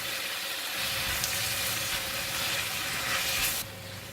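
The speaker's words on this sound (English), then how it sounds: "So frying the vegetable, I'm putting in about 1 teaspoon of oyster sauce and about half teaspoon of light soy sauce, and pinch of salt." Vegetables stir-frying in a wok with oyster sauce, light soy sauce and a pinch of salt, a loud continuous sizzle with stirring scrapes, easing off abruptly near the end; no talk.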